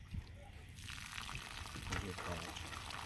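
Water pours and splashes steadily from a chicken waterer while its parts are being replaced, a close, continuous gush that rises louder after the first second.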